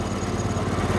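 A Cummins Onan QG5500 generator runs rough with a steady, close chugging engine drone and uneven pulsing that suggests faint backfires, with no talking.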